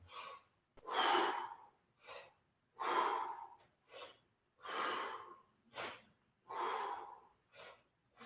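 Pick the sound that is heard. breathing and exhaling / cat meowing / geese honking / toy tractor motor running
breathing and exhaling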